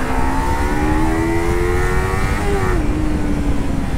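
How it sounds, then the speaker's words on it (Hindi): Kawasaki Ninja 300 twin-cylinder motorcycle engine, a loud steady drone with pitch edging slightly up and then dropping near the end, with heavy wind and road rush over it and no talking. "ट्विन सिलेंडर इंजन का जो मज़ा है ना, वो बहुत ही अलग होता है, बहुत ही स्मूथ है"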